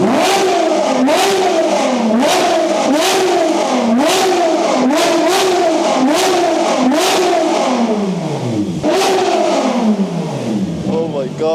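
A loud twin-turbo all-wheel-drive Lamborghini STO-style car revs repeatedly nearby at a grand opening event, its engine rising and falling in a steady rhythm of throttle blips before easing off, with people talking over it.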